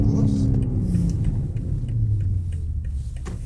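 Deep engine roar from a BMW M3 G80 heard from inside the car, a steady loud low rumble that holds throughout with slight pitch shifts, while people talk over it.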